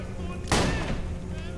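A single gunshot in the video game Borderlands the Pre-Sequel, a sharp burst with a short rumbling tail, moderately quiet over a steady game background.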